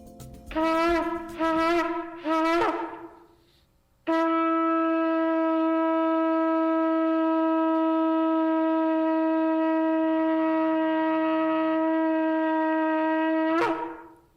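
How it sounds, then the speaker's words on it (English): A few short rising horn calls, then one long sustained, brassy blast of a shofar held for about ten seconds before cutting off, inside the Manitoba legislature at an installation ceremony. "That's the sound of a shofar blasting through the Manitoba legislature at the installation ceremony of Anita Neville"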